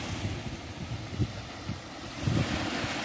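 Evening sea waves wash onto a beach at Berdyansk, a soft, steady low rumble of surf with a few gentle swells and some wind buffeting, fairly quiet with no talk.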